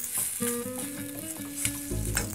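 Tomato paste and pink peppercorns fry in a hot pan with a steady, close sizzle and crackle that runs throughout, over a faint melodic tone in the background.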